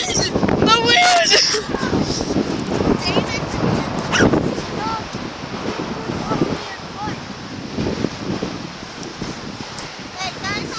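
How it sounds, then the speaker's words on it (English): Wind buffets the microphone outdoors during a trip around a flooded neighborhood, a constant loud rumble under excited shouting. A dog barks and whimpers now and then. "The wind! The wind!"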